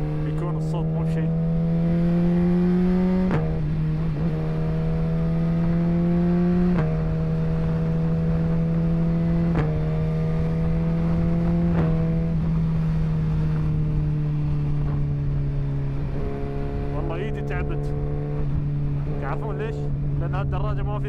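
A Suzuki GSX-R 1000 motorcycle engine running steadily, a loud droning hum with shifting pitch over about twenty seconds, mixed with wind noise and someone talking over it.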